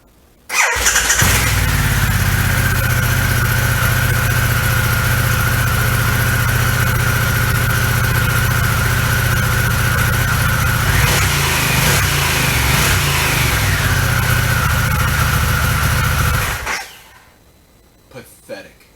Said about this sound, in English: this is what the original equipment exhaust sounds like for the Pan Am.